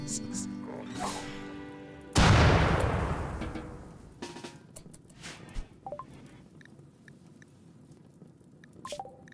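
Fire-triggered explosions in the Rimworld video game: a sudden loud blast that fades over a second or two, followed by scattered sharp crackles and small pops.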